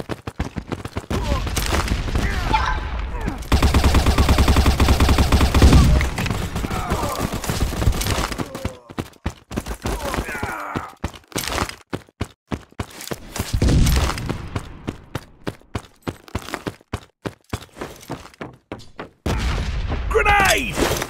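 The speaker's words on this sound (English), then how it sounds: "Grenade out!" Gunfire and a grenade blast in Modern Ops bomb mode on the Facility map: dense rapid shots and heavy booms, loud and continuous with pauses, with voices shouting over the action.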